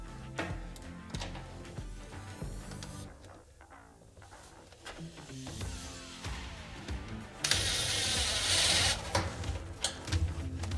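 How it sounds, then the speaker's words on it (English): Sheet metal screw driven into the floor of a Ford Transit van, with scattered ratcheting and scraping clicks followed by a brief loud whir of the screw biting into metal, close up. "we do need to attach the front with one of the sheet metal screws included with the floor"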